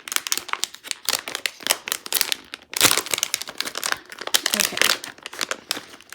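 Plastic bags crinkling as they are handled while unpacking a mystery bag of washi tape, close, busy bursts of rustling and crackling with brief pauses.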